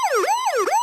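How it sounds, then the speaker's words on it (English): A siren sound effect with a rapid up-and-down yelp sweeping twice in under a second, loud, close and unbroken, with no voices. "Can I get a siren?"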